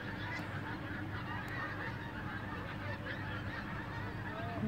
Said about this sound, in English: There's all bloody quacking all over.